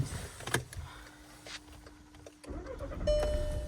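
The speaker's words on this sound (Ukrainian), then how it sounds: "Запускається двигун з півоберту" A Skoda Octavia A5 car engine with 218,000 km on it cranks and catches near the end after quiet idle-like background, followed by a brief whine; close and moderately loud.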